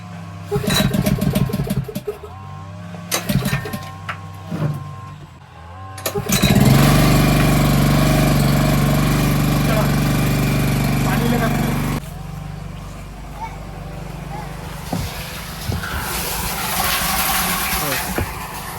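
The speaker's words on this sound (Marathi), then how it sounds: "चला चल पंप चालू करून बघूया" A small water pump motor starts up in a Konkan garden and runs with a steady, loud droning hum, after some clattering and knocking beforehand, continuing at a lower level later.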